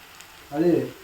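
Bitter gourd fries in a pan with a sudden burst of sizzling that swells halfway through, after a quiet start, then stays steady and close.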